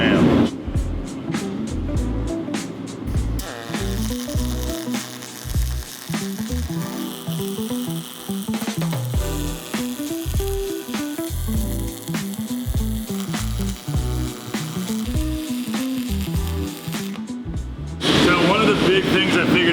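Aluminum is MIG welded with a steady crackling buzz that runs in repeated bursts and short pauses, close and loud, with a brief break near the end.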